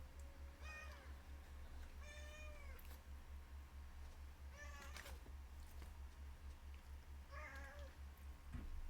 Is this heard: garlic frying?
no